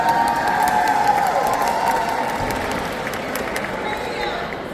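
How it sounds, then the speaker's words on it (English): An audience at a hip hop philosophy talk bursts into applause mixed with cheers and shouts, loud at first and slowly easing off, with people talking through the noise. "If you went, you can applaud."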